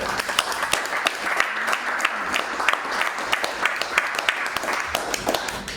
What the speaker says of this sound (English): let's give John B a round of applause